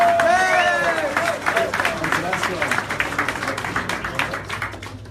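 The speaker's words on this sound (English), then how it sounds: "big round of applause for Papa OneCoin!" An audience at a business training event in London applauds, with whoops at the start. The dense clapping grows into scattered, uneven claps, with voices and chatter mixed in.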